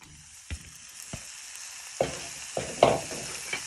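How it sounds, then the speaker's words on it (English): Chicken strips frying in a hot wok for homemade chicken burritos, a steady sizzle with several sharp clacks and scrapes of a stirring utensil against the pan, close and fairly quiet. "Let that just heat up for a minute or 2 before you start frying your chicken strips."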